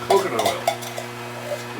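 A spoon stirs a thick pumpkin mixture cooked with coconut oil in a pot, giving a brief close scrape and soft clinks over a steady low background hum.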